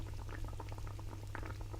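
Broth for tarragon chicken bubbles and boils in a pot, a dense, continuous burble of popping bubbles heard from a little distance, steady and unbroken with no talking.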